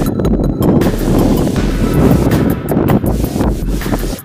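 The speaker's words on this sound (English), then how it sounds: "This wind, I can't stand it." Loud, gusty wind in Utica, New York buffets the microphone in rough, rumbling bursts, constant throughout with no voices.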